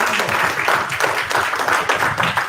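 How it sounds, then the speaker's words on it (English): A horror convention crowd applauds loudly and continuously, with a thick wash of many hands clapping close by and some cheering mixed in. "let's get a round of applause for the Twilight"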